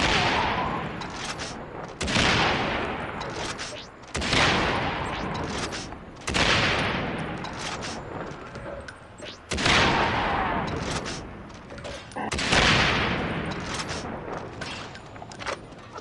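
In the video game Far Cry 3 Blood Dragon, gunfire rips through zombies in repeated loud bursts every couple of seconds, each fading away, while a voice talks over the shooting.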